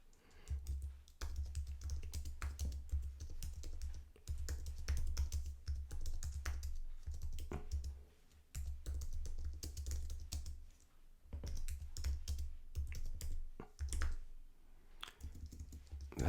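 Computer keyboard typing in bursts of quick clicks with short pauses, close and fairly quiet, with no talking.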